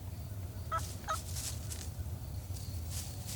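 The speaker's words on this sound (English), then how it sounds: "The wild turkey is considered one of the wariest of all game animals." Wild turkeys gobble faintly in the distance, with a couple of short rattling bursts over a low outdoor rumble.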